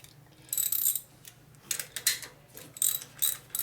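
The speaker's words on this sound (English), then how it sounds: "It's gonna pull out one spark plug." A ratchet working on a spark plug of a Harley Evo chopper, with several short bursts of rapid metallic clicking separated by brief pauses, close and fairly clear.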